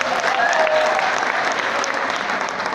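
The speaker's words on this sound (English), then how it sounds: "Please clap for her." Steady, dense applause from a large audience at a 2016 graduation ceremony in a congress hall, continuous and fairly loud throughout with a faint voice briefly audible in the mix.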